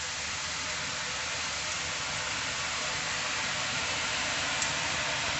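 Ribbon pakoda, a South Indian savory snack of pressed dough, fries in well-heated oil over high flame, giving a steady, even, hiss-like sizzle that holds unchanged and fairly loud throughout.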